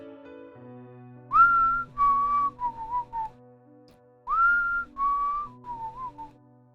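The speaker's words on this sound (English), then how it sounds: "we heard the whistling" A lone whistled melody repeated twice, each phrase a rising note sliding into a few falling tones, clear and close against a faint low hum.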